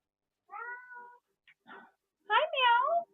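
A cat meows up close in a quiet room, giving a drawn-out cry, a couple of short chirps, then a louder, rising two-part meow.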